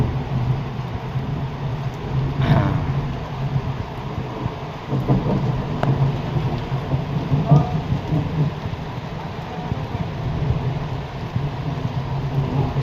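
Steady rain pours down on the streets outdoors with low rumbles of thunder rolling in the distance, a continuous wash of noise with no talking.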